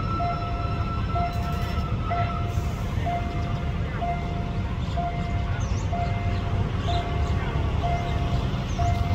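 Thai Pacific-class steam locomotive hauling train 903 out of Bangkok station toward Chachoengsao: a steady loud rumble of the moving train with a regular repeating clank or bell tone, and someone speaking over it.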